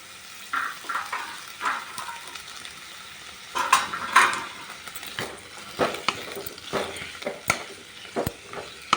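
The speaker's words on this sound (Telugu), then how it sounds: "బాండీలో ఒక స్పూన్ ఆయిల్ వేసుకొని ఈ కట్ చేసుకున్న ఈ కూరగాయ ముక్కల్ని లైట్గా వేయించుకున్నాం" Chopped vegetables frying lightly in a spoonful of oil in a kadai for makhana curry, a soft steady sizzle broken by repeated clinks and scrapes of a spoon stirring against the pan.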